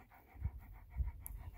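A dog pants steadily and rhythmically close by, quick breaths pulsing in a regular pattern for under two seconds, with a brief high squeak near the end and no talking.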